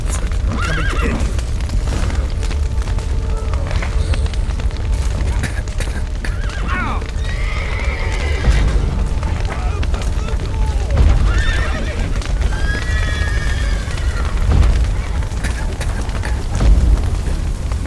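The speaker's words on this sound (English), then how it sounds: "The horses!" Horses in The Witcher 3 neigh and whinny several times over steady clip-clopping hooves, set against a dense, busy game soundscape with voices speaking intermittently.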